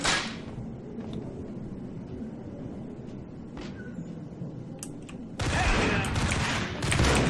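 Gunfire in the Max Payne video game, a few sharp cracks scattered over a steady game backdrop, then a loud sustained burst of shooting near the end.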